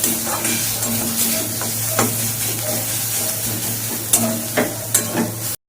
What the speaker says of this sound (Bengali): এবার পেঁয়াজের পেস্টটা একটু পরে দিলাম, দিয়ে এবারে ভালো করে মিক্স করে